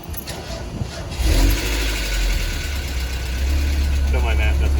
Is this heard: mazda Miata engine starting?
yes